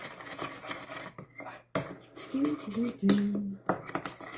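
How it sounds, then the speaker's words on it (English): A spoon scrapes and clacks against a mug while stirring thick peanut butter frosting, irregular close scraping strokes with a few clinks and short pauses, no voice. "we're just going to take our spoon and we're just going to stir that up until it becomes like a thick, nice frosting"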